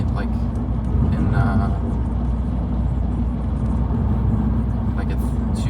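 A 180HP VW Scirocco driving fast on an open road, with a steady, loud engine and road rumble filling the whole stretch while someone talks over it.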